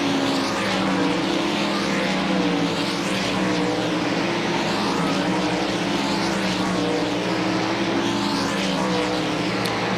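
Dirt track race cars at Volusia Speedway Park during the DIRTcar Nationals, engines roaring continuously in a loud sustained drone with rising and falling pitch as cars circle the track, no talk.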